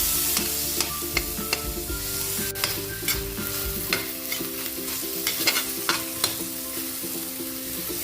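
Ground pork sautéing in a pan, heard as a continuous close sizzle and hiss, with scattered sharp scrapes and taps of the stirring utensil against the pan and a low steady hum underneath, no talking.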